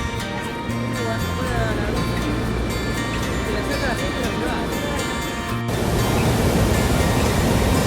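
Iguazu Falls on the Argentine side of the Iguazu River, roaring with a vast volume of water: a dense, steady broadband rush that fills the whole stretch without a break, with faint voices mixed underneath.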